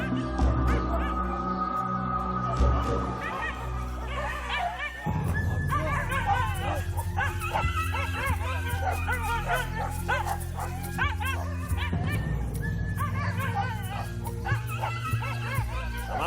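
Agitated dogs in Sumatra bark and yip continuously at close range, with whimpers and overlapping excited calls throughout, alongside some background speech.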